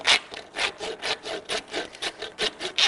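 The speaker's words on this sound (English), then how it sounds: "Take a saw and begin to score through" A hand saw scores through bone during an anatomical dissection, with about a dozen rhythmic rasping back-and-forth strokes, close and fairly quiet, with no talking.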